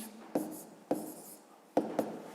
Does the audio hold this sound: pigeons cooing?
no